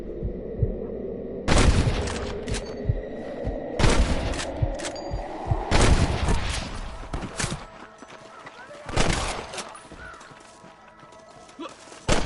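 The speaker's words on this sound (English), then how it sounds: "I can hear more gunshots." Gunfire in the Western video game Red Dead Redemption: several loud, sharp broadband bursts spaced a few seconds apart over a rumbling, hoof-like background, with no clear speech.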